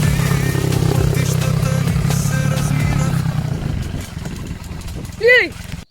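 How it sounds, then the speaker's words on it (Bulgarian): A motorcycle rides into a forest, its engine drone strong and steady, then fading as it moves away. Someone talks over it, and a short rising whistle-like sweep comes near the end. "вече влиза в гората този моторист"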